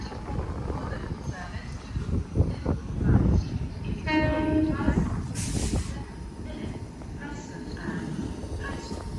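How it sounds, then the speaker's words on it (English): A freight locomotive sounds its horn in a short burst mid-clip at a station, set against rail rumble and clatter, with people talking around it. "that freight locomotive has turned around, as you just heard its horn"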